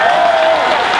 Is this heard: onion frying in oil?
no